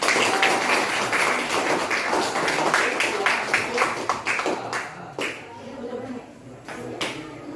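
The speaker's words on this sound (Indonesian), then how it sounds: "kasih aplaus untuk kawan kalian" A classroom applauds presenting classmates, a burst of many hands clapping close by that thins out into scattered claps and a few knocks.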